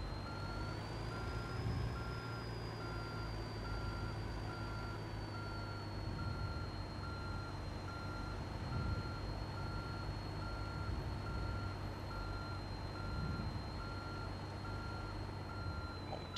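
A truck backs a trailer into place in the American Truck Simulator game. A steady, repeating reversing beep sounds clearly over a continuous low engine drone, with no talking.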